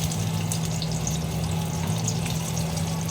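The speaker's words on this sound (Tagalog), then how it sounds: "Ang lutuan malalim na mantika." About fifteen chicken pieces deep-frying in a large wok of deep oil, giving a steady, dense bubbling hiss with a low hum underneath, continuous and close with no voices.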